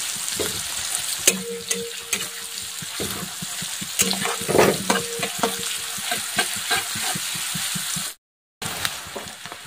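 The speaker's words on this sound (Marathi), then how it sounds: "कांदा सुद्धा छान तळला गेलेला आहे तेलामध्ये." Chopped onion frying in oil in a pan for a dry egg curry, with a steady close sizzle broken by repeated stirring scrapes and clinks, followed by a brief silent gap near the end.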